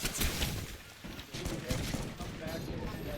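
Bursts of gunfire rattle through a competitive video game scrim match, dense and continuous under the excited talk of a caster.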